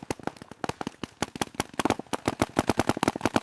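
Rapid, irregular popping shots from several paintball guns firing in quick bursts on a paintball field, sharp and fairly close, with the pace quickening toward the end.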